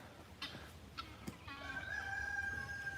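A guinea fowl calls out to warn other grown guinea fowl back through a fence, a few sharp squawks followed by a sustained, strained crowing cry, moderately distant and fairly faint amid farmyard ambience.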